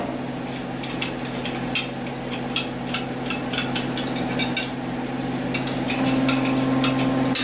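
A spoon stirs food frying in a cooking pot, giving a steady sizzle with repeated soft scraping and clinking strokes close by, continuous and moderately loud, with no voices.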